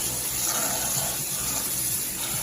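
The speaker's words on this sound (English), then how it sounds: "So pouring water on it for about a minute or two, just to kind of clean it up." Steady running water poured over noodles in a strainer to rinse them, a continuous close gush like a tap flowing, alone without talk.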